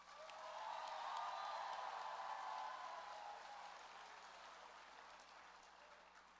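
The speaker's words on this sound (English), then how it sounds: "let's give them another round of applause" Audience applause at a Kansas FFA convention session in a large hall, a soft wash of clapping that swells quickly and then slowly fades away.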